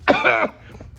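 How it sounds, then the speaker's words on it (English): One short, harsh cough, loud and close, with a brief second hack trailing off. "She coughed on you."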